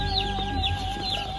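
Broiler chicks cheep and peep continuously while being handled for vaccination at a poultry training facility, a close, dense chorus of high chirps.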